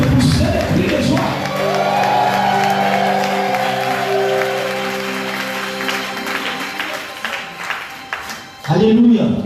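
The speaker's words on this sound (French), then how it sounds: "Est-ce qu'on peut pousser les cris de joie?" A church congregation at a Sunday worship service cheers, shouts for joy and claps in a loud, sustained burst under steady held tones. The noise thins near the end as a voice speaks.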